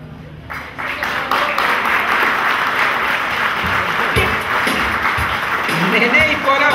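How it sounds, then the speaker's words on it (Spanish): Loud, sustained applause from a party crowd at a quinceañera candle ceremony, greeting two honored women, steady broadband clapping lasting several seconds with some voices mixed in. "El aplauso fuerte para ellas dos."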